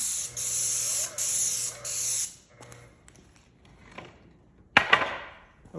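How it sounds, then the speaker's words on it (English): A handheld paint sprayer hisses out paint in three loud, close bursts with short pauses, followed by quieter clicks, handling noises and one sharp spurt near the end. "I've got a paint sprayer full of paint."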